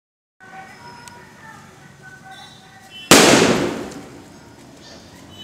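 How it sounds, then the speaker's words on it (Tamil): Firecrackers set off at a 500K subscriber celebration: a quiet stretch of background sound, then a sudden loud crackling burst that rings out and slowly fades. "போடுறா தம்பி வெடியா"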